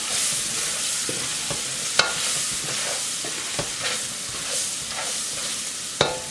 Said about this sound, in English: I'm gonna add our green peppers. And we're not gonna let it sit because we don't want it burning. We're gonna just keep stirring it.